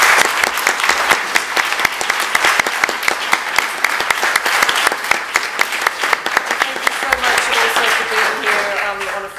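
An audience applauds panelists at the close of a talk on surveillance, a sustained burst of dense clapping with sharp individual claps cutting through, loud and close, while a faint voice carries under it toward the end.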